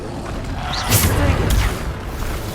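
A Bombarda spell explodes in Hogwarts Legacy, loud rumbling booms landing twice in quick succession over a dense game soundscape.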